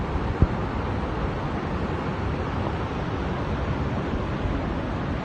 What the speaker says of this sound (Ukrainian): Паводок надвигает. Вот такой поток идет.